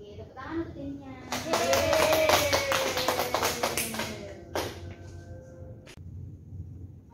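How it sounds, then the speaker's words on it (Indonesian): A group of students claps for a classmate during a chemistry microteaching lesson on alkanes, a dense burst of hand claps lasting about three seconds, then fading into scattered taps while a teacher's and children's voices carry on. "Oke, tepuk tangan untuk Denia."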